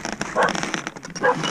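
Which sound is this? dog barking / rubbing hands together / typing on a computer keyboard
dog barking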